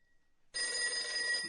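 A telephone bell rings at night in the bedroom of a state leader's official residence, a radio drama effect: after a moment of silence, a loud, sustained metallic ring starts abruptly and continues alone.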